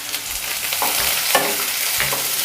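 Chopped onion and tomato sizzle and fry in a pan while being stirred, with a steady close crackle broken by scraping stirs.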